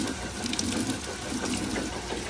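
A Roper top-load washing machine runs its drip rinse, with a continuous close hiss and patter of water spraying and splashing inside the tub, steady throughout.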